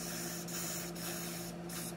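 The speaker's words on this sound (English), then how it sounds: "there's a big torsion spring on this one that is quite rusted, so I'm going to be spraying that down fairly well" Aerosol lubricant sprayed onto the rusted torsion spring of a Craftsman 13.5/27 lawn mower: a steady close hiss with three brief pauses between bursts, over a constant low hum.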